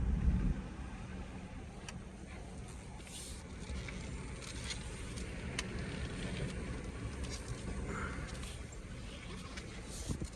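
Steady cabin rumble of a 2018 Jeep Grand Cherokee V8 HEMI 4WD driving, a constant low road and engine noise with occasional faint ticks and rattles, no one talking.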